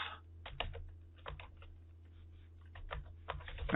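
Quiet, close keystrokes on a computer keyboard come in short irregular bursts of clicks with brief pauses between them.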